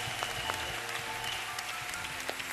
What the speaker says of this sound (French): Acclamons d'abord pour eux.